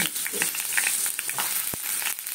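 Potatoes, pumpkin and carrots hit hot mustard oil in a pan, giving a close, steady sizzle with small crackles and one sharp clink of a utensil near the end, no voices.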